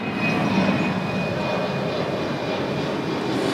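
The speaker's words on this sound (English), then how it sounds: "And here comes another plane." An Azul airliner passes overhead above Flamengo Beach in Rio de Janeiro, a loud, steady jet-engine roar with a faint whine, continuous throughout with no talking.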